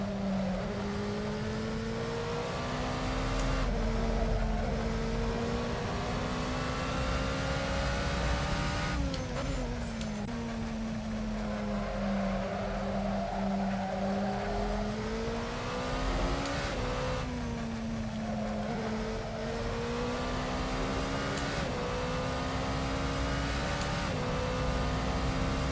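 A race car in a sports car challenge at Spa-Francorchamps in a racing video game, its engine droning loudly and steadily, rising and falling through gear changes and corners, with no talk over it.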